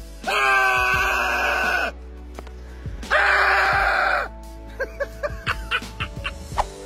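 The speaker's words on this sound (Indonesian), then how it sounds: "Dia berteriak di dekat ulat-ulat itu." A person screams loudly and close by near a cluster of hairy caterpillars, two long sustained bursts with a pause between, followed by short broken cries and breathy vocal sounds.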